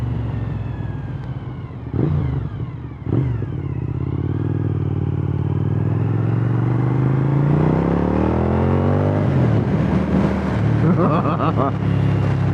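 A 2004 Suzuki SV1000 1000cc motorcycle engine pulls hard under acceleration, its loud, close drone rising steadily in pitch over several seconds, with a brief rev dip and a small pop, then climbing again.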